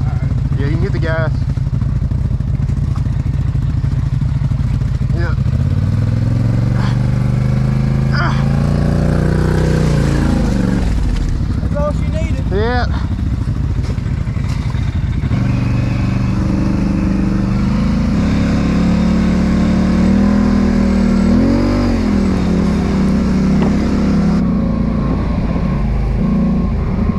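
A mud truck at the Mud Nationals bounty hole holds a loud, steady engine roar throughout, its pitch swelling and dipping as it revs, with people talking over it.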